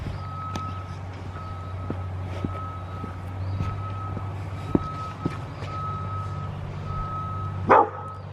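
A truck's reversing alarm beeps steadily at regular intervals over a low engine hum, with a dog barking briefly near the end.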